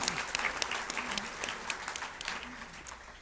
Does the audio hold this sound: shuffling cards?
no